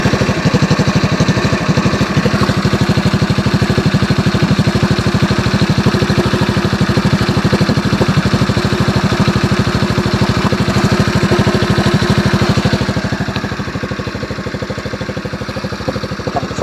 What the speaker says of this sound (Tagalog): Kasi ang naririnig natin yung tunog ng makina.